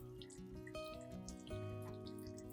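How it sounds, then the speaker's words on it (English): Running tap water rinsing an orchid plant, a steady splashing stream over the leaves and roots with shifting tone as the flow hits the plant, close and soft, no voices. "thoroughly rinse the entire orchid with clean water"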